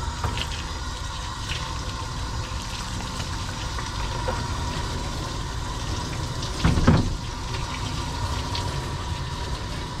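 Water runs steadily from a tap or hose to rinse a dog's coat during a grooming bath, a constant close hiss of spray with a brief louder splash partway through.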